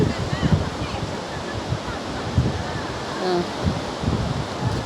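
Heavy river water rushes continuously under a bridge, a dense roaring flow with no pause, and a few faint voices mixed into the noise.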